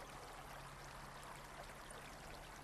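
Baglan Brook babbling and splashing downhill past a church, a steady close wash of running water with a faint low hum beneath, no voices.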